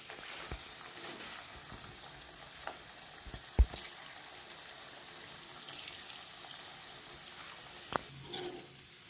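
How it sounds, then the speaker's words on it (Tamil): Cauliflower pakoda fritters deep-frying in oil over a low flame, a faint steady crackle with a few soft pops and spatters scattered throughout. "போட்டுட்டு சிம்மில் வந்து பொரிச்சு எடுங்க"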